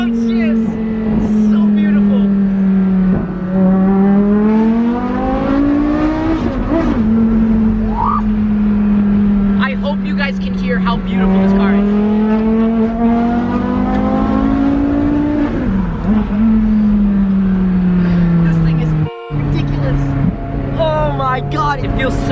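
Lamborghini supercar engine roaring loud and close through repeated rising revs and dropping downshifts, with crackles and a brief cut near the end; excited voices talk over it throughout.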